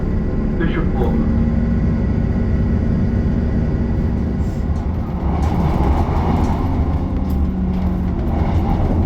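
A train pulls into Bishop Auckland station, heard from on board as a loud continuous rumble and rail roar with shifting tones, while a voice speaks over it.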